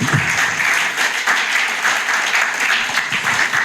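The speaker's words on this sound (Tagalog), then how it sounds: "Yung palakpak na excited" A church congregation breaks into excited applause, a dense, steady clapping from a crowd that stays loud and close throughout.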